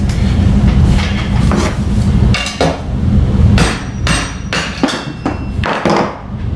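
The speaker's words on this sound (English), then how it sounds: "So basically now that lug is stuck in the socket, so I just have to tap it out real quick." A hammer taps a stuck lug nut out of a socket held in a vise. Loud, close metallic strikes come in irregular bursts over a rumbling background, with several quick knocks near the end.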